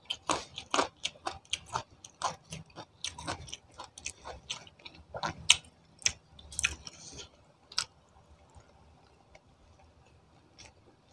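Someone chews crunchy fried tilapia fry with red shrimp-paste chili sauce, sharp crisp crackles repeating in quick bursts up close, then tapering to sparse, quieter bites.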